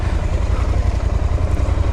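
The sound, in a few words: KTM 990 Duke motorcycle engine running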